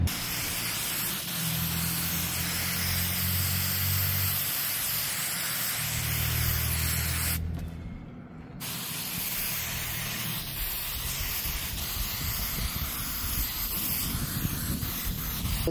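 Sawyer permethrin sprayed from a spray bottle onto clothing, long loud bursts of hissing mist with a brief pause partway, close to the microphone and with no talking.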